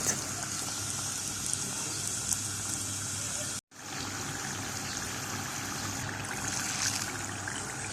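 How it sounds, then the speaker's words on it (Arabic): Crispy crepe strips frying in medium-hot oil, a steady hiss and crackle at moderate level, briefly dropping out for a moment before resuming. "هنخلي الزيت سخن على درجة حرارة متوسطة، وهنقلي الستريبس لحد لما ياخد لون ذهبي"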